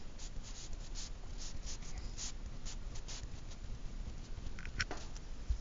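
A marker squeaks and scratches across a surface while drawing a midline on a math graph, a series of short, soft strokes over a steady background hiss, with a sharper stroke near the end.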